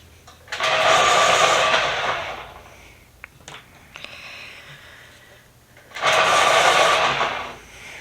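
Pencil sharpener grinding a Prismacolor colored pencil, two sustained loud bursts of whirring about two seconds each, separated by a few seconds of quieter handling clicks and rustle.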